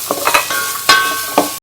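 Coconut and spices are stirred in a pan, producing a few loud scraping strokes with light sizzling between them over a short moment, no voices present.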